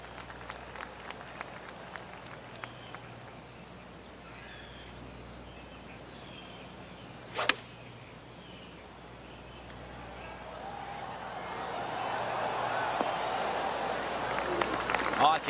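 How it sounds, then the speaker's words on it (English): Scattered golf claps sound faintly around a PGA Tour golf course, with an outdoor hush and birdsong, and the polite patter swells toward the end. "I can hear the golf claps around the course"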